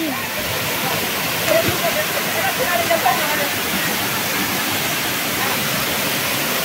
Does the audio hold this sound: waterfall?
yes